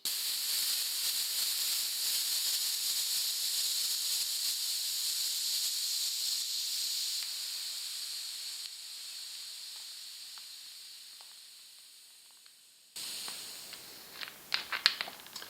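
Air hissing out of a Presta valve on a Ridley CX commuter bike tyre, a steady close hiss that slowly fades, then stops abruptly, followed by a few small clicks and taps.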